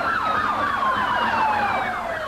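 A wailing police siren sweeps up and down rapidly and steadily, loud and continuous, with traffic rumbling underneath, during a chase by several police cars.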